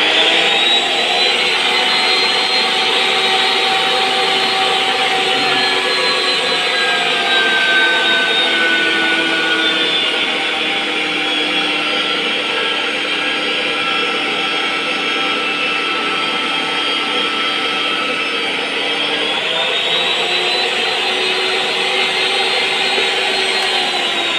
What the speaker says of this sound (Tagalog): buhayin natin yung motor